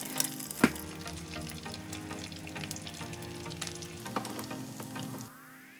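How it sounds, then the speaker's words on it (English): Eggs fry in a pan over medium heat, giving a steady close sizzle with a few sharp pops before the sound cuts off near the end. "Fry the eggs as you like over medium heat."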